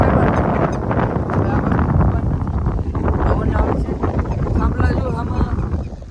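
Strong wind roars steadily into the microphone, a dense rushing buffet that nearly drowns someone talking throughout.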